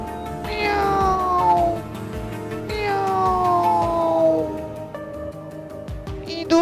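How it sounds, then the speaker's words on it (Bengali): A cartoon cat gives two long, drawn-out meows that slide downward in pitch, followed by a shorter third call, loud and clear over a faint background. "ইঁদুর ছিলাম, হলাম বিড়াল। কি মজা, কি মজা। Miao Miao."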